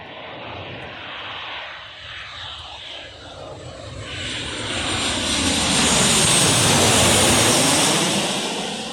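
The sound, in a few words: Jet2 Boeing 737 jet aircraft flying overhead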